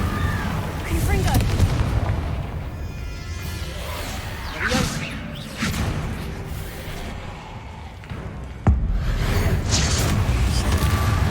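Confringo blasting spells bursting in Hogwarts Legacy, a run of loud booming blasts with whooshing bursts and a sharp crack near the end, over dense game noise and music.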